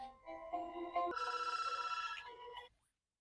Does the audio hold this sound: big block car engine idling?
no